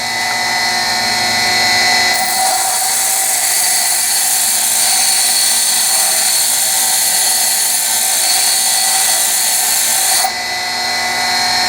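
A bench grinder grinds a high-speed steel lathe tool bit, a loud sustained high grinding whine that starts abruptly, holds steady for about eight seconds, then drops back to a lower motor hum.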